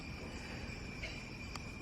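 A steady, shrill chorus of tree frogs calls through a North Carolina night, insect-like and continuous at moderate distance, with no talking.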